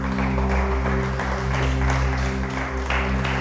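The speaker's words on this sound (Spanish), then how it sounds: "Dale ese aplauso al Rey." Church congregation applauding, a steady patter of clapping over a sustained low hum of organ or keyboard chords.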